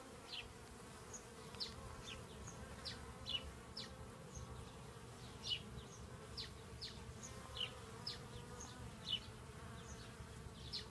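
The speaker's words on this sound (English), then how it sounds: "Just some bees getting some water." Steady buzzing of bees drinking water on a hot day of about 105 degrees, with small bursts as individual insects dart close, a busy low hum throughout over faint outdoor background.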